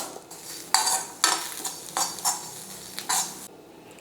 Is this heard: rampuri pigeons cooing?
no